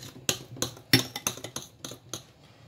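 Spoon clinking and scraping against a bowl while fruitcake batter is mixed, a series of sharp irregular taps close by with no talking.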